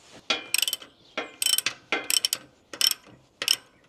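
A locking nut on a wooden log-splitting holder's adjustable arms is tightened with a ratchet, giving short bursts of rapid clicking in about five separate strokes, close and clear with no talking.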